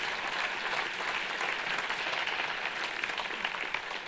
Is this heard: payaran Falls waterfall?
no